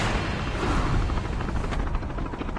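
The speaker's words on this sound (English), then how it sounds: "Chopper." Helicopter in a video game, a steady loud rotor roar with broadband thump filling the whole stretch, no talk over it.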